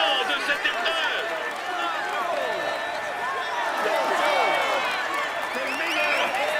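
A crowd applauds and cheers a cyclist at the Vuelta 2022 Stage 3 podium in Breda, sustained clapping under a steady commentator voice.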